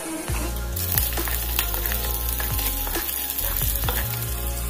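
Garlic dropped into hot oil for a prawn fry, a loud, close sizzle with dense crackling and a few stirring clatters throughout, no one speaking.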